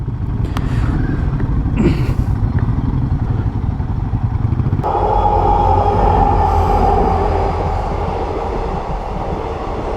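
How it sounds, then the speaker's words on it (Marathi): A train rolls past a motorcycle rider on an endurance ride between Kolhapur and Panaji, a loud continuous rumble of wagons and rail noise with engine sound mixed in, swelling midway as the cars pass close by. "ट्रेन येणार आहे बहुतेक मगाची जी आपल्याला ट्रेन दिसली तीच इथून क्रॉस होणार असेल"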